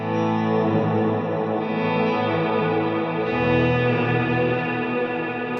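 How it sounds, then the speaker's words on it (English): Ambient electric guitar sustains layered chords through a boost pedal feeding a reverb, so the wash of reverb swells louder; the tones ring steady and continuous with a shift in the chord partway through, and no one speaks. "if I add the boost to that, it's just going to increase the volume of the reverb"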